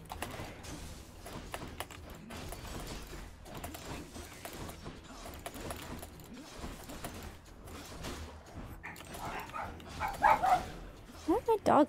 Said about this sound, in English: Dog's barking at.